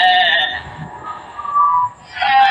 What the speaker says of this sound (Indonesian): Kambing-kambing milik Amir yang berjumlah sangat banyak meninggalkan jejak yang bertumpuk di atas tanah